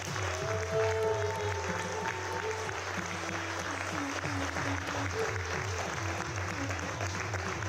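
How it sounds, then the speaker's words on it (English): Festival audience applauding dancers at an International Dance Day event, steady dense clapping filling the space throughout, with a low musical drone or hum beneath the crowd. "Please join me in giving one more round of applause to all the dancers."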